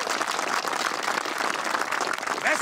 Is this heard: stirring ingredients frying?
no